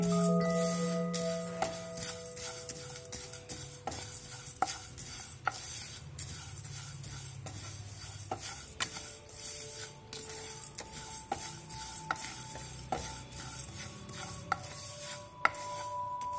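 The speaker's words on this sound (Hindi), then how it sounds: "सौंफ, काली मिर्च और साथ में ये राई। इनको हम यहाँ पे अच्छे से सूखा ही रोस्ट करेंगे।" Fennel, black pepper and mustard seeds dry-roast in a pan while being stirred continuously, giving faint scratchy rasping and light metallic clinks and rattles, close and fairly quiet, with no voices.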